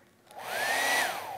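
A hair dryer switches on and blows air, its motor whine rising in pitch and then holding as a steady, fairly close whoosh.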